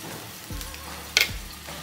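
Caramel stirred in a pan gives a couple of quick, close spoon scrapes and a soft sizzle. It is brief and fairly quiet.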